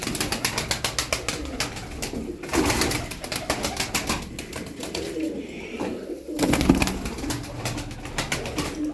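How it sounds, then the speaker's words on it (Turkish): Tumbler pigeons coo softly in a repeating rhythm, with occasional louder bursts of wing flutter and shuffling nearby. "Bakın güzel kuşlar var."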